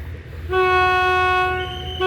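A loud, steady horn from suburban train 341 departing Bang Sue Junction station sounds for about a second and a half over low rumbling, then cuts off briefly before sounding again.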